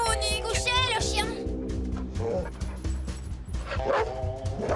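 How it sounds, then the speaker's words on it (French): A dog barks and yips repeatedly at close range, with whimpering sounds mixed in, while people talk over it throughout. "Il aboie après nous, Nick!"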